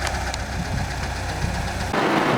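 Steady mid-pitched engine drone from a VAZ 2103 Zhiguli car pulling away, continuous and close throughout with a slight rise in roughness near the end.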